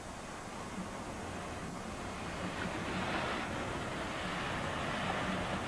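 Ocean waves wash ashore at Wells Beach on the Atlantic coast of Maine, a steady broad roar of surf mixed with wind buffeting the microphone.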